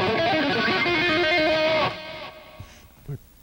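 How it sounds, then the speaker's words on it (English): Distorted electric guitar runs quick pull-offs to open strings in a dense burst, then cuts off, leaving a few faint trailing plucks and string noise. "What he does is he pulls off to open strings."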